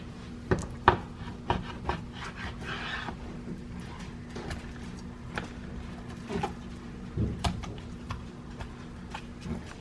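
Knife cutting meat thinner on a wooden cutting board, with a run of soft, irregular scraping taps and rubs close by under a steady low hum, no talking.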